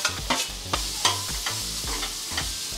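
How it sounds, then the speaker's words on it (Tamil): Onions sauté lightly in a pan, with repeated scraping stirs of a spatula over a continuous sizzle, close and fairly loud, with no talking. "இது வெங்காயம் வந்து லைட்டாக வதங்கினா போதும்"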